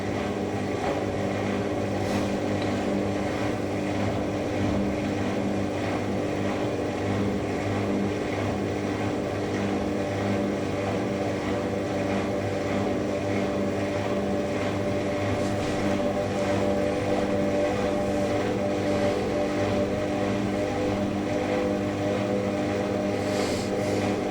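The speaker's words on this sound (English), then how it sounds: "Yeah, that pump." A Hotpoint WD64 Aquarius washer dryer drain pump runs with a steady, continuous hum and whirr, close and even throughout on a 95-degree white cotton programme.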